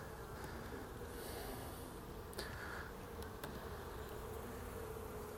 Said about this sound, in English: See, these bees are more up in your face.